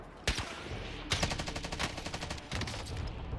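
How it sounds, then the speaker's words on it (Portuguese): Automatic gunfire in Call of Duty Warzone deathmatch play, with a single sharp shot followed by sustained rapid bursts of machine-gun fire, loud and close, with no one talking. "De onde tá vindo esse tiro, cara?"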